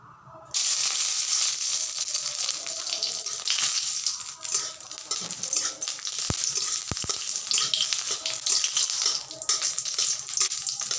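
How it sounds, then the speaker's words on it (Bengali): Two dried red chillies sizzle in hot oil as a fish bharta is prepared, a steady close frying hiss with a few sharp crackles, heard alone. "আমি এখন প্রথমেই তেল দিয়ে দিচ্ছি। শুকনো লঙ্কা দুটোকে ভেজে নিব"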